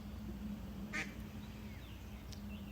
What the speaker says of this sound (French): Regardez un petit canard.